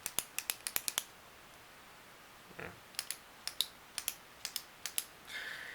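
A Paper Mate Profile metal ballpoint pen clicked repeatedly, sharp close clicks in quick bursts with a brief rustle between, no talking.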